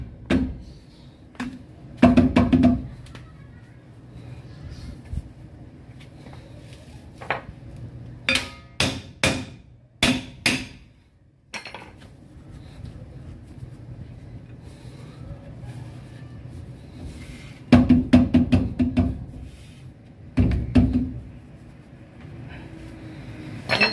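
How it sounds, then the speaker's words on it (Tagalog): A motorcycle's rear brake is struck repeatedly with a hammer to knock loose built-up dirt, giving sharp metallic clangs in irregular bursts and clusters, close and loud with quiet gaps in between. "Natatanggal yung mga dumi. Pinupukpok natin."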